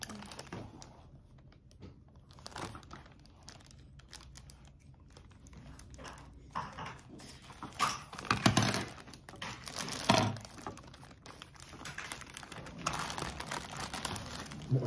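Plastic packaging of a McDonald's Happy Meal Shinkalion Z toy crinkles and rustles as it is opened by hand, with irregular crackling bursts that build louder toward the middle and continue to the end.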